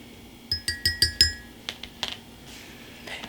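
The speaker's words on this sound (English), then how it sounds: "And now take a little whisk," A small whisk stirs milk and cream in a glass, giving five quick, bright, evenly spaced clinks close by, then a few lighter scattered taps, with no talk.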